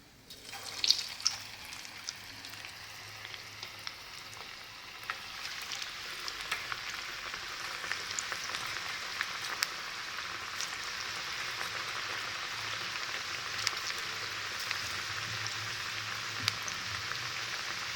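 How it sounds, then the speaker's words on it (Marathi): Onion bhaji, Kolhapur-style crispy kanda bhaji, fry in hot oil with a steady, faint bubbling hiss that builds after a few seconds and then holds evenly without any talk. "आता आपण दुसरे भजी सोडून घेऊया तेलात"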